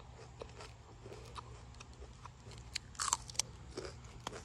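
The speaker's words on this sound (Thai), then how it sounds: "จะลองกินอันแก่ๆนี้ให้ดูอร่อยไหมเพื่อนกินได้นะมีเม็ดข้างใน" Biting and chewing an old sweet pea pod with seeds inside: soft crunches and moist chewing close to the microphone, growing into a few louder crisp bites near the end, over a low steady hum.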